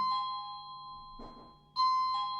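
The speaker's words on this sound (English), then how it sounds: "I forgot we have an actual doorbell now." A newly installed doorbell sounds indoors with clear ringing chime tones: one ding early, then two more chimes near the end after a short rustle. Fairly faint, with no talk.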